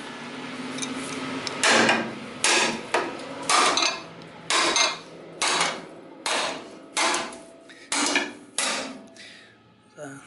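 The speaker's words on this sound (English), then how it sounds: "A good hammer, I guess." A hammer strikes metal in a welding and plasma-cutting shop, about a dozen loud, evenly spaced blows that each ring briefly before the next.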